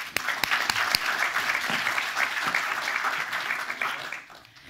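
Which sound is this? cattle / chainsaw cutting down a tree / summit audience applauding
summit audience applauding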